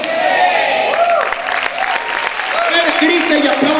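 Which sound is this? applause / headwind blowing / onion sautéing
applause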